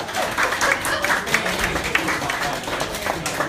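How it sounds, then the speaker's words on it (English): An audience at a Tuscan wine tasting claps and cheers for a cook, dense continuous applause from a room full of people with voices mixed in. "Big clap for Tony."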